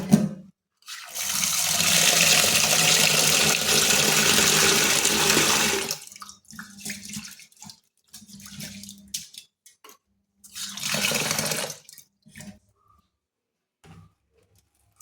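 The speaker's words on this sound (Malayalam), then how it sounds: "ആദ്യമേ തന്നെ ഇത് നന്നായി വെള്ളത്തിൽ കഴുകിയെടുക്കണം." Ragi vermicelli and flattened rice are rinsed in water, a loud sustained splash and pour for several seconds, then quieter intermittent swishes and a second short burst of running water.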